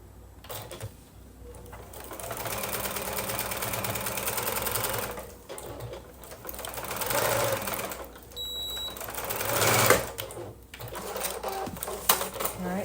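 Sewing machine stitching a quarter-inch quilt seam on a quilt top, a steady close whir in runs with pauses, someone talking quietly over it.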